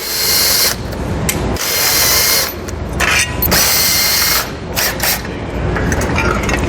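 A power tool, likely a ratcheting impact wrench, removes 15mm and 10mm bracket bolts during a base plate install on a 2016 vehicle, running in loud close bursts with brief pauses between them and no talk.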